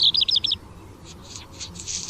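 Black redstart song in the open: a quick burst of high, scratchy chirped notes, then fainter, thinner phrases over soft background hiss.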